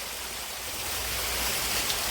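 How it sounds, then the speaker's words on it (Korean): A small waterfall and stream flow through a forest valley, a steady broadband rush of water, close and even, with no voices. "이렇게 작은 폭포와 소가 안반 구간에 자연적으로 이렇게 되어 있고요"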